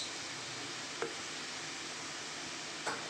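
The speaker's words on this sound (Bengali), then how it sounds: "ভালো করে কষিয়ে নেব নাড়িয়ে চাড়িয়ে" Ginger garlic paste and ground spices such as cumin and chili powder fry softly in a pan, a faint steady sizzle with a couple of brief utensil taps while being stirred.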